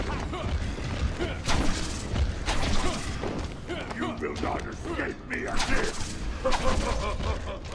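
Bane hurls walls in Batman: Arkham Asylum, sending debris crashing down in a run of heavy booms, creaks and rumbling impacts that hit repeatedly at close range.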